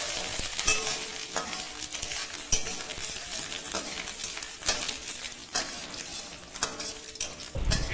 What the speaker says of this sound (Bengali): তারপরে আদা বাটাটা দিয়ে কিছুক্ষণ নাড়ার পরেই দেখো আদাটা কি সুন্দর ছাড়া ছাড়া হয়ে গেছে